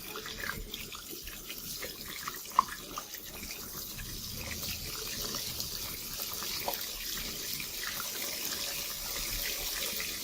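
Okra frying in hot oil for a dhaba-style masala bhindi, giving a steady hiss of sizzle and spatter with a few sharper pops, close and continuous with no talk.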